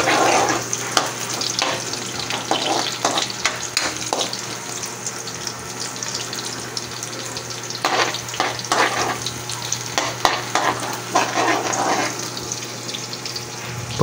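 Carne norte (corned beef) with egg frying in oil in a pan and being stirred, a steady close sizzle with intermittent scraping bursts throughout.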